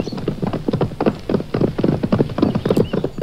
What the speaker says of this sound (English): Brave Prince George climbed on his horse and rode right up to the dragon.